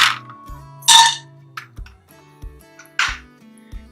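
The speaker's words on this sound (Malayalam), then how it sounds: "ഇനി ഇതിലേക്ക് 2 ടേബിൾ സ്പൂൺ പീനട്ട്സ് ചേർത്ത് കൊടുക്കാം" Two tablespoons of peanuts are dropped into a hot, oiled pan, giving a few sharp, separate clinks and clatters with quiet gaps between them and no talking.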